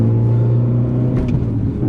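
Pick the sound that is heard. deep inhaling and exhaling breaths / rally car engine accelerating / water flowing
rally car engine accelerating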